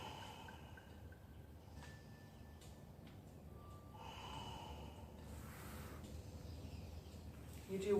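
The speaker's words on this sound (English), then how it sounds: "And you breathe here." Slow, quiet breathing of a person resting in yoga child's pose, soft steady inhales and exhales close to the mic against a low background hum, with a louder breath near the end.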